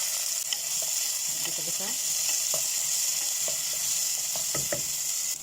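Chopped onion frying in a little oil in a pan for a vegetable soup, a bright, continuous sizzling hiss with scattered crackles and a few soft scrapes, while a voice briefly speaks.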